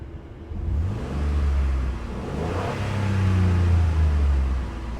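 A car engine runs during heater coolant bleeding, giving a close, low rumble that rises twice in gentle revs before settling back.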